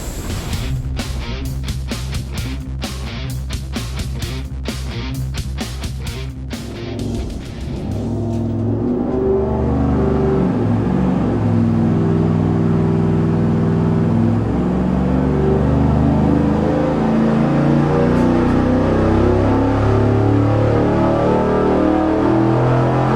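A loud engine runs on a dyno, comparing Weiand and Edelbrock intake manifolds, continuously, first with rapid staccato pulses, then rising into a sustained roaring rev that holds steady throughout.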